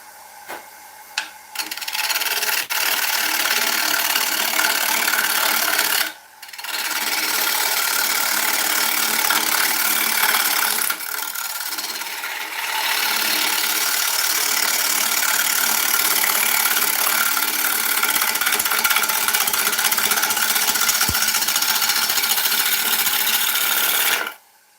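A wood lathe spins an unidentified timber at 700 RPM while a tool cuts it gently, a loud continuous rasping scrape with two brief pauses where the tool lifts off.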